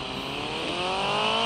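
A stuck vehicle's engine revs hard in one steady, continuous drone whose pitch climbs slightly, loud and close with no talking over it.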